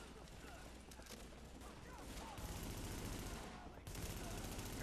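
Gunfire in Tom Clancy's The Division comes as dense, rapid automatic bursts under a busy, noisy game mix, fairly loud throughout, with brief pauses between volleys.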